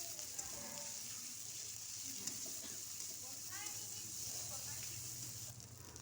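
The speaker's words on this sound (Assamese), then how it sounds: "সেইখিনি পেষ্টখিনি ইয়াতে অকণমান ভাজি লৈছোঁ" Onion and chili paste sizzles steadily in a hot pan, a continuous close frying hiss with faint stirring and a soft voice in the background.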